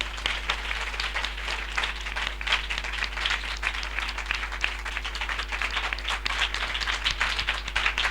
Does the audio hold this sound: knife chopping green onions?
no